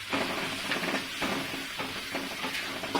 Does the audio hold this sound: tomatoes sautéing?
yes